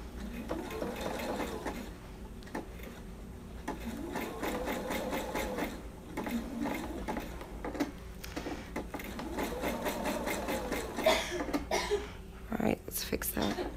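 A sewing machine stitches a Christmas pillow in repeated bursts of steady rapid whirring, with short pauses between runs and some quiet handling noise, while a person talks over it.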